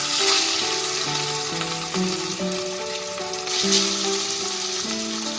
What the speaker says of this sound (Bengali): আমি কিন্তু এখানে মাছগুলোকে খুব কড়া করে ভাজছি না